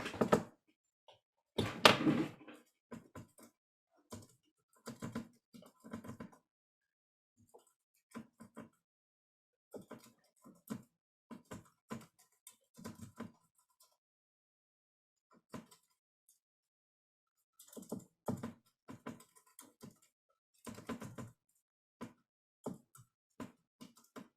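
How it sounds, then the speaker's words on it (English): Bursts of clicky keystrokes on a computer keyboard during a human physiology lecture, coming in short irregular runs separated by quiet pauses, fairly faint and with no talking. "So maybe I should type that in as well."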